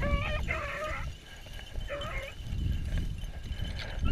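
Several beagles whimpering and yipping at close range in short high-pitched bursts, with scuffling and footfall noise underneath throughout.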